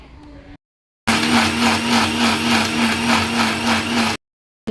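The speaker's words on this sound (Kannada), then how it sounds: "ನೋಡಿರಿ, ಸ್ವಲ್ಪ ನೀರು ಹಾಕಿ ರುಬ್ಕೊಂಡ್ಬಿಡ್ತೀನಿ" A mixer grinder churning masala with water, a loud steady whirring hum lasting about three seconds before cutting off abruptly, with a brief quieter stretch before it.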